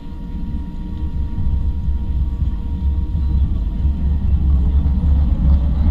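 The engines of an Antarctic scenic flight airliner spool up to full takeoff thrust, a loud, steady low roar and rumble that builds and holds with a faint rising whine, with no speech.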